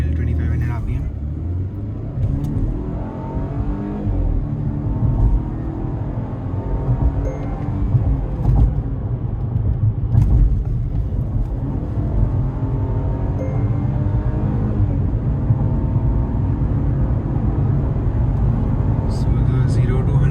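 Volvo S60 engine held at about 2500 RPM with left foot on the brake, then launching from a standstill, a loud continuous rumbling drone that builds steadily, with voices talking over it.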